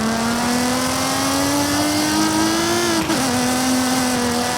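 Game-modelled BMW E46 straight-six in Forza Horizon 5 drones loudly and steadily, its pitch climbing slowly before a brief dip as it shifts, then carrying on alone.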